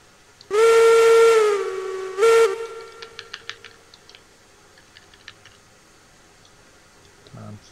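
A steam locomotive whistle in the Railroads Online train game sounds loud, with one long blast and a short second toot, followed by soft hissing steam and scattered mechanical ticks.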